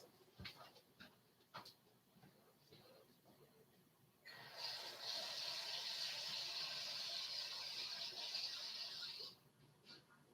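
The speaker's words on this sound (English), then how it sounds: "I'm going to put a little water on this spot." Water poured onto a spot on a whisky bottle comparison (Canadian Hunter), a steady close hissing splash lasting about five seconds, preceded by faint handling clicks.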